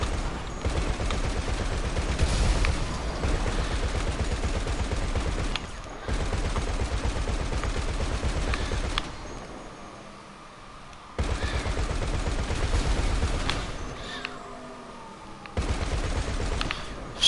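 A mounted gun on a Gunrunning vehicle in GTA fires long, loud sustained bursts broken by short pauses, rapid and close throughout.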